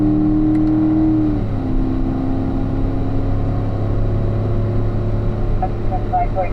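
A car on a race track holds a steady, loud engine drone with a pitch shift early on as the throttle is worked, close and continuous, while a voice speaks over it.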